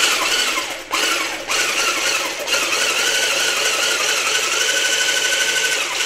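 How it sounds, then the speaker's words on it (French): An electric whisk whips egg whites with a pinch of salt, vanilla sugar being added, for floating islands with strawberries: a steady, loud high-pitched motor whir with brief dips as the beaters shift in the bowl. "On va maintenant monter les blancs en neige, petite pincée de sel, et on va fouetter."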